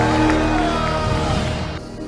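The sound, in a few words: huge crowd shouting and cheering for the Lord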